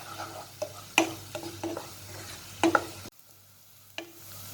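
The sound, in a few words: onions sautéing and being stirred in a pan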